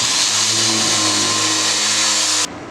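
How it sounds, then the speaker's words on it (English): A wire wheel on a power tool grinds surface rust off a Ranchero project car, a loud, steady, harsh whine with a high metallic rasp that runs continuously for over two seconds, then cuts off abruptly. "You gotta be careful, especially these wire wheels."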